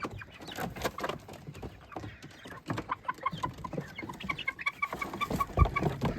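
Several young pullets, Wyandottes and Ameraucanas, cluck and chatter continuously at close range, with soft scratching and shuffling around them and no talking.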